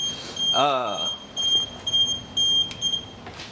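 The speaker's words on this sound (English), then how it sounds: "What was that, a smoke detector?" A building smoke detector chirps in repeated short high beeps, fairly close, in a cigar lounge, with a person speaking briefly in between.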